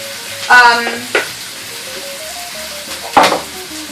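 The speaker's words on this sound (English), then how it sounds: "So it's going in the oil. Here it's sizzling, it's so hot." Rice sizzles and crackles in hot oil, with a few sharp bursts as it is stirred and broken up in the pan.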